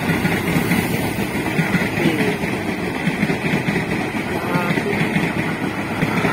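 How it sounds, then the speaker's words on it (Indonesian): A train rumbles past nearby with a steady, loud roar and faint rhythmic clatter, continuous for the whole stretch. "nah nih kereta api lewat"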